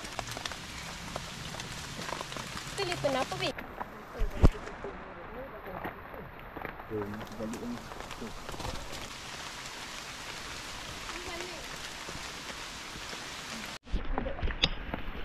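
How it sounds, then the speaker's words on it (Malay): Light rain falls steadily on a mountain trail, a soft continuous patter. A person speaks briefly near the start and again near the end. "Hujan dah mula renyai-renyai."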